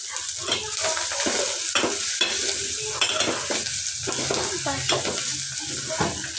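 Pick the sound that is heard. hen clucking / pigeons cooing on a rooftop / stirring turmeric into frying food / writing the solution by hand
stirring turmeric into frying food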